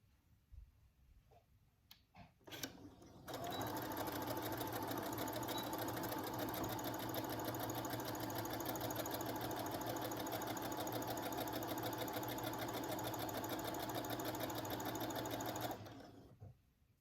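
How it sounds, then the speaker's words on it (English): Sewing machine running a straight stitch for a casing: a few handling clicks, then a long, steady, loud mechanical whir with rapid even ticking for about twelve seconds before it stops, close and alone. "here we are at our sewing machine, where we will sew a straight stitch to create the casing"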